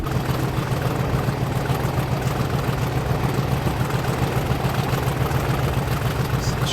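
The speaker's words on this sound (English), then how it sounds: "That engine sound is glorious." Class 50 diesel locomotive engine in a train simulator game, a steady low throbbing rumble with a constant pulsing beat, loud and unchanging, no voices.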